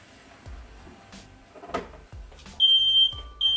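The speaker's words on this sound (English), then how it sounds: "I was afraid my smoke detector was gonna go off." A smoke alarm in a kitchen starts beeping with loud, shrill electronic tones, set off by cooking, two bursts near the end after some scattered kitchen clatter.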